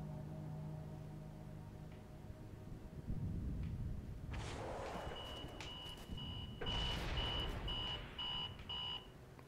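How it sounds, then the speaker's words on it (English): Beeping in the video game Halo 3: ODST Firefight, a series of short, evenly spaced high-pitched beeps over rumbling explosions and gunfire from the game. "That beeping."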